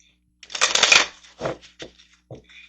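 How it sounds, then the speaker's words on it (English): A deck of money cards is riffled and shuffled close up: one long rustling burst followed by a few shorter flicks. "Let's look at your money really fast before we leave, using the money cards."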